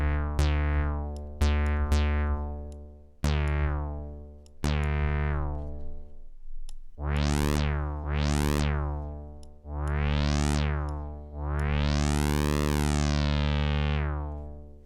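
A Mono One Max for Live mono synth in Ableton Live, played with envelope modulation: a run of sharp, decaying plucked notes gives way to longer notes with swooping filter sweeps, heard alone and up close.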